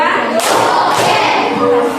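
Students in a classroom clap together in a spirited rhythmic routine, two or three loud group bursts landing about half a second apart over dense room noise and voices.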